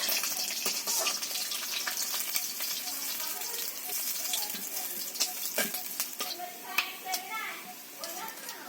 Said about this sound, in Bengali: একে একে সমস্ত মাছগুলোকেই ভেজে নিতে হবে